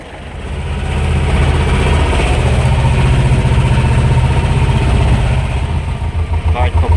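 A T-25 tractor engine chugs steadily at close range, a low throbbing rumble that holds level, then pulses more unevenly near the end.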